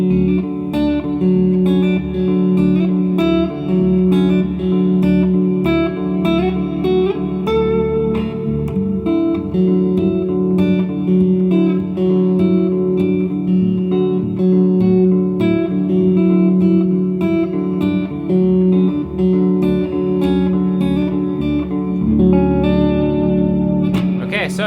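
Open-tuned electric guitar with a clean tone drenched in lush reverb, strummed and picked continuously at steady volume, ringing chords and shimmering upper notes filling the whole stretch without speech.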